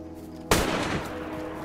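A single loud shotgun blast from DayZ, fired by an enemy player, sharp onset then a long rumbling decay, over a steady low game hum.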